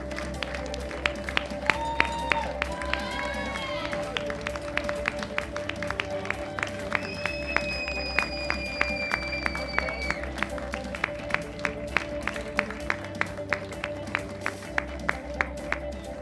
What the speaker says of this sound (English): give all the girls a round of applause